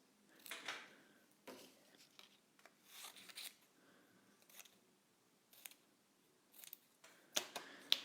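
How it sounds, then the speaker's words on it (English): Scissors snip out shapes from magazine paper in short, separated bursts of crisp cutting with quiet gaps between them, close and soft, with no talking. "Another thing to think about as you're cutting out your pieces"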